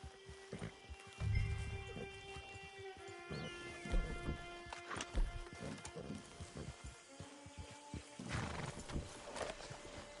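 In Red Dead Redemption 2, horse hooves clip-clop unevenly amid game ambience, with a horse whinnying partway through; moderately loud, steady trotting rhythm.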